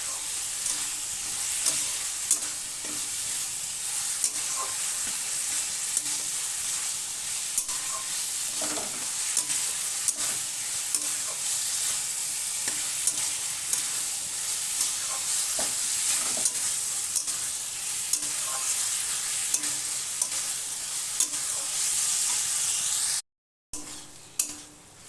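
Boiled chickpeas sauté with spices and salt in a pan for palak chana, a steady, close sizzle punctuated by repeated stirring scrapes and spatula taps throughout, with no talking.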